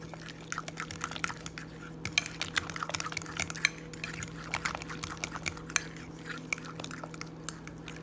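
Cinnamon powder being stirred into banana bread batter in a bowl, giving soft, close scraping and clinking of a utensil against the bowl with irregular small taps throughout.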